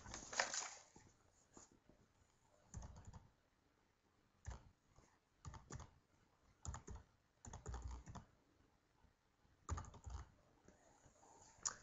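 Computer keyboard typing in irregular bursts of quick clicks separated by pauses, close and fairly quiet with no talk.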